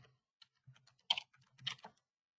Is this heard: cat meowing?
no